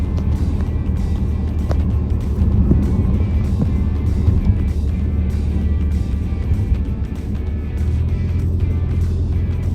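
Car interior on Rama 2 road in Bangkok, a section with roadworks, potholes and bumps: a steady low engine and road rumble with some tire noise at close range, continuous throughout.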